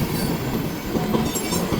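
A train rolls through Fostoria, Ohio, its steady rumble and rail noise loud and close, with wheel clatter and faint squeal throughout and no voices.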